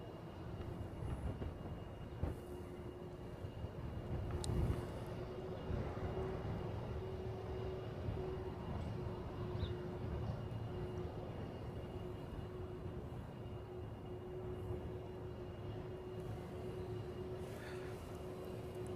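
A United airliner taxis at an airport in Hawaii, its engines giving a steady distant rumble with a sustained whine, heard from afar for the whole stretch.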